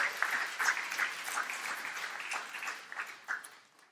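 A church congregation applauds at an anniversary service, a steady wash of many hands clapping close by for about four seconds before tapering off.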